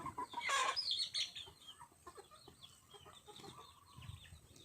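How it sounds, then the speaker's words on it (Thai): Chickens clucking at evening feeding time as food is given and water changed, a burst of louder clucks at the start followed by softer scattered clucking and rustling, fairly faint and without talk. "มาให้อาหารน้องไก่แล้วก็มาเปลี่ยนน้ำให้น้องไก่"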